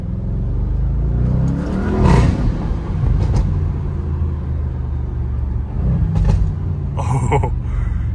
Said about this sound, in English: Oh, good pops and crackles for a stock car